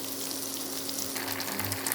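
Onions and apples braise in a hot pan, a close, constant crackling sizzle and hiss with a low hum underneath.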